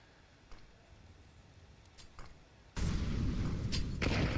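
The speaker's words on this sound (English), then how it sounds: "That frag grenade, I don't know. I think it's destined for greatness." A frag grenade goes off in a Counter-Strike match, a sudden loud blast after a few quieter ticks and clicks, with a noisy rumbling tail.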